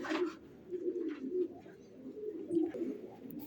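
Pigeons coo softly in repeated low, throaty bursts, close by and fairly quiet, with faint background rustle and no talking.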